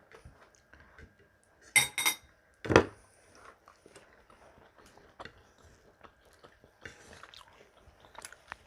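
Crunchy pako fern salad being chewed up close, with soft crisp bites and a couple of louder clinks of a spoon against a dish, otherwise quiet.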